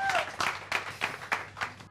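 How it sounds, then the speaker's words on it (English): A handful of people clap in short uneven bursts, roughly six distinct claps spaced across the moment, fairly close and moderately loud, for aspiring film stars in Port Harcourt, Rivers State. "Clap for yourself."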